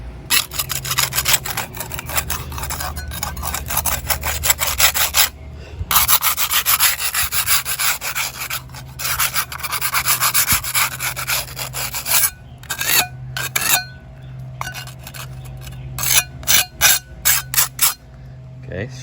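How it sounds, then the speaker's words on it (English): Scraper rasping over a rusted stucco surface to strip loose paint, repeated rough scraping strokes with brief pauses between them, close and loud, with someone talking at times. "now we're gonna have to scrape off all the loose paint."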